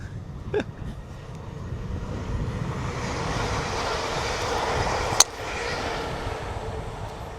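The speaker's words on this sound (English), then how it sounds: "There's a train coming." A train rumbles past a golf course at the Women's Scottish Open. It is a steady mid-distance roar that builds and holds for several seconds, with a sharp click or knock standing out near the end.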